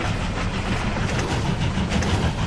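Train running in the World of Final Fantasy video game on PS4, a dense continuous rumble and rattle of rolling cars, loud and steady throughout with no talking.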